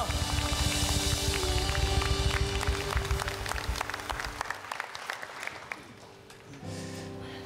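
A church congregation applauds loudly in praise during a worship service, a dense, sustained clapping that thins out toward the end, with music or a held tone continuing underneath.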